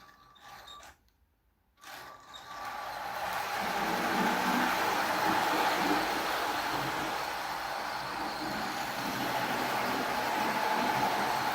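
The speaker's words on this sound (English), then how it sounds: "Now I have 2 trains running on my network though" A small model V/Line N Class diesel-electric locomotive rolls steadily along the track with a continuous mechanical whirring and rattling hum, after a brief quiet pause near the start.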